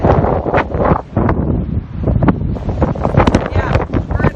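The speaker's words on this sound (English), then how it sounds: "it's a little windy because we're right on the ocean." Gusty ocean wind buffets the microphone at a cliffside campsite beside the sea, rumbling in uneven loud bursts, with people talking underneath.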